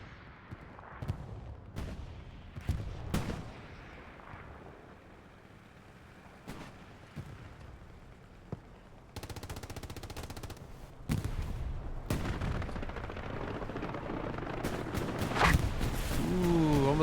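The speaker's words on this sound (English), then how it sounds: "More rockets coming in from CTM." Incoming rockets during a military video game battle, Delta Corps against CTM: sharp blasts and cracking gunfire at first, then a sustained, dense roar of rapid fire and impacts that grows louder toward the end.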